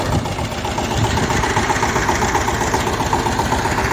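A Shifeng 160 turbo intercooler tractor engine idles steadily and close by, with a regular low chugging pulse and mechanical vibration throughout.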